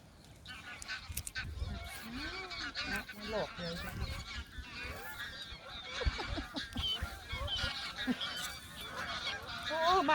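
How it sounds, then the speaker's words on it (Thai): A flock of ducks honking and calling in a busy chorus of overlapping squawks, fairly close and continuous, with some faint talk mixed in. "เป็นฝูงด้วยนกเป็ดยาย"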